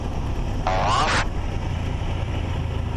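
A Cessna 172 touches down on a short runway. Its engine drones steadily and close, and a brief bright tire chirp marks the contact with the ground.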